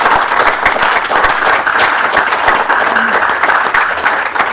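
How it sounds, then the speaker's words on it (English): At a varsity roundtable, an audience gives a loud, sustained round of applause to high school basketball players. Many hands clap in a steady, even roar throughout. "give another round of applause for our guests here"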